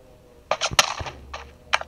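Gunfire in the Free Fire mobile shooter game comes as scattered sharp, clicky bursts, several quick shots in short clusters at moderate loudness, with no talking over them.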